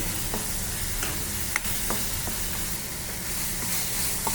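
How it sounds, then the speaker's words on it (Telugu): Garlic paste frying in a pan for a prawn and cashew curry, a steady close sizzle with occasional scraping stirs and light clicks of a spoon against the pan throughout. "ఇలా వేగిన తర్వాత మనం అలానే వెల్లుల్లి పేస్ట్ కొంచెం వేసుకోవాలి వేసుకుని బాగా వల్లి పచ్చివాసన పోయేంత వరకు వేపాలి"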